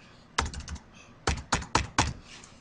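Numbers typed on a computer keyboard: a single keystroke, then a quick run of four close, crisp clicks, quiet and near.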